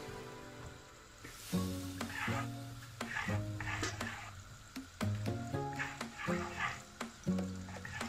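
Butter sizzling and crackling in a pan while cooking dhaba-style dal makhani with urad dal, a steady close hiss broken by repeated scraping stirs and light clinks.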